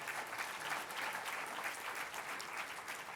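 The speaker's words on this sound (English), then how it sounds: "Let's give him one more big round of applause." Audience at the Lakewood Celebrates Lakewood awards ceremony clapping in a sustained, even round of applause, dense and moderately distant with no talk over it.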